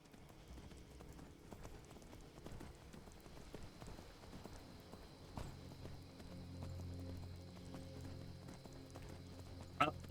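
Horse hooves clip-clop in a steady trotting rhythm while riding uphill on a mountain in a fantasy role-playing video game, moderately loud with faint rain-like patter behind and a brief sharp sound near the end.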